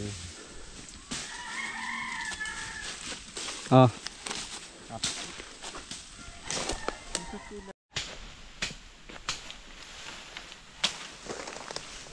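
Chickens cluck and a rooster crows from a chicken coop, fairly distant beneath outdoor background noise and people talking, with one louder call standing out briefly.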